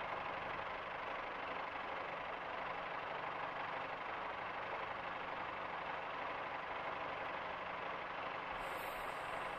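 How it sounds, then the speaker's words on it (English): Brakes release on a train in a train simulator, running as a steady, loud hiss of escaping air over a low mechanical hum. It holds constant throughout with no talking. "I'm going to take the brakes off for a moment"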